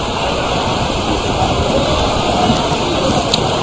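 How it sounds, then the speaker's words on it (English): Heavy rain pouring during an under-17 Burkina Faso versus Nigeria football match, a dense steady roar of rainfall with no breaks, loud and enveloping. "The rain is getting heavier and heavier."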